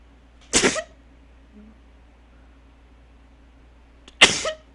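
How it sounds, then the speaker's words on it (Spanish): Two sharp, loud sneezes from a character in the game What Remains of Edith Finch, spaced about three and a half seconds apart, with quiet room tone in between and no talk. "Voy a estornudar."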